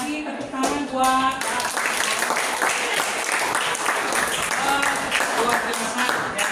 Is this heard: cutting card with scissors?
no